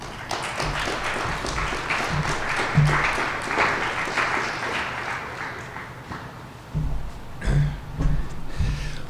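An audience applauds to welcome speaker Bruce Ashford, with a sustained wash of many hands clapping that swells and eases, and a few louder thumps and shuffles near the end.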